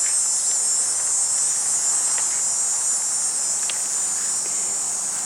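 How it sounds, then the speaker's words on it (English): Cicadas drone in a summer garden among flower containers, a continuous high, even buzzing that fills the whole stretch at a steady loudness, with no voices. "Oh, you can hear the cicadas now."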